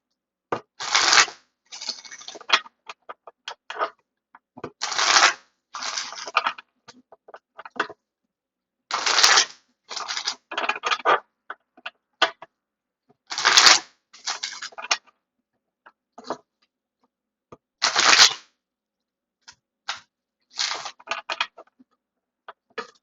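Tarot cards are shuffled by hand at close range in a series of crisp, fluttering riffles and bridges, about seven distinct bursts separated by short quiet gaps, with no talking.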